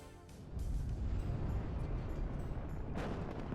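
Tank cannon fire and explosions in the WARNO real-time strategy game, with a T-64 taking hits, as a loud sustained rumbling barrage of booms begins after a quiet half-second start and carries on steadily.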